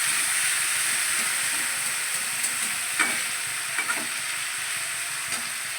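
Chopped green chilli fries in a pan for egg chowmein with a constant bright sizzle and hiss. A few sharp pops and scrapes break through near the middle and toward the end.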